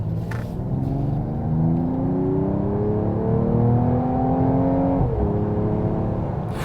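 A 2024 Mercedes-AMG GT 43 accelerates hard to pass, its engine note rising steadily through the revs with a brief dip at a gear change before climbing again, loud and close from inside the cabin with no talking.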